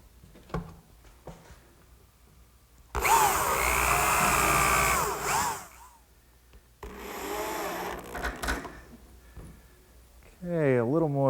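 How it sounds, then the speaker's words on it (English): A power drill drives screws into the back panel of a corner cupboard in two loud, sustained bursts of whirring, with someone talking before, between and after them. "I'll fasten the back the same way I did with that first side. Just a few screws aligning it with my layout marks."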